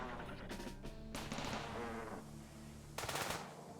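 Defensive turrets in the video game Rimworld fire rapid automatic bursts at a swarm of infected, with three short volleys separated by brief pauses, sounding fairly quiet and somewhat distant.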